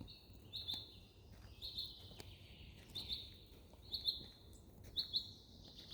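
A tiny bird in a forest sings loudly and close by, repeating short, high, bright chirping phrases about once a second against a quiet outdoor background.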